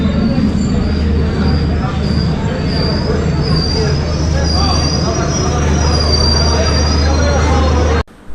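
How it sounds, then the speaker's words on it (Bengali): A Kashmir valley passenger train pulls in at Anantnag station platform, with loud, continuous rumbling of wheels and a sustained high metallic squeal from braking, close by and steady until it cuts off at the end. "তো এই প্ল্যাটফর্মে একটা ট্রেন চলে আসছে"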